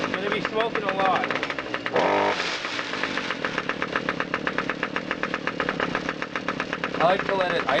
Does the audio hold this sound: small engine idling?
yes